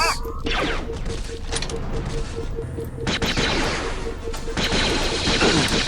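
Droids in the Jedi Outcast game at Kejim Base fire loud, rapid blaster shots in dense bursts with brief pauses, layered over mechanical whirring and clanking.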